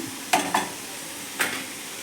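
Cabbage stir-fry sizzling in a pan as grated coconut goes in, with a steady frying hiss broken by three short scraping stirs.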